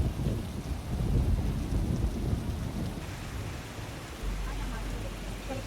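Heavy rain pours down steadily during flooding in southern China, with low rumbling thunder rolling underneath; the dense downpour stays constant and fairly loud throughout.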